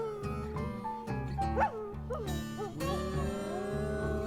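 A hound dog howls several times in a song, each cry rising and bending over steady music, clear and close.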